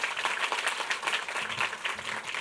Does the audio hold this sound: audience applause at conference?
yes